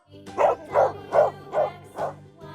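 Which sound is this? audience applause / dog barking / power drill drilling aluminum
dog barking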